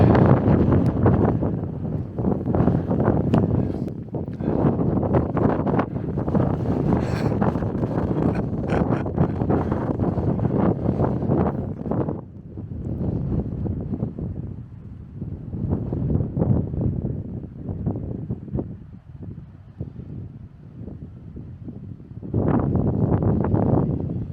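Strong wind on an exposed hilltop buffets the microphone in heavy, rumbling gusts that rise and fall, with brief lulls between blasts.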